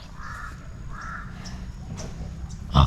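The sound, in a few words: two crows cawing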